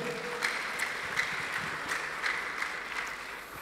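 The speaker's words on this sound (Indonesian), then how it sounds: "Tepuk tangan." Audience at the opening ceremony of an entrepreneurship event giving steady applause, a continuous even spread of clapping at moderate level with a few sharper claps standing out.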